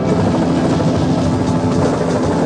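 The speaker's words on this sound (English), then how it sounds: "The helicopter." A helicopter roars overhead, its rotor thumping steadily under a loud continuous engine drone, close and filling the whole moment.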